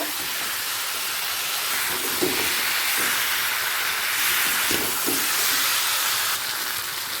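A fried katla fish head sizzles with spices in a pan over a medium-to-high flame, giving a steady, loud, close hiss throughout.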